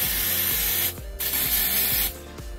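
Onyx nail drying spray hissing from an aerosol can, two steady sprays of about a second each, separated by a short pause, close and fairly loud.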